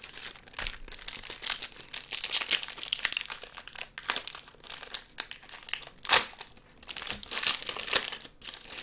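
Close, continuous crinkling and tearing of a foil Dragon Ball trading card pack wrapper as it is opened, with busy irregular crackles and a few sharper rips.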